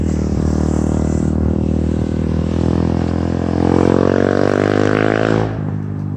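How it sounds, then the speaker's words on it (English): A motorcycle passes by, its engine note rising as it approaches and then dropping away as it recedes. The sound is loud and continuous with no voices. "that was a motorcycle."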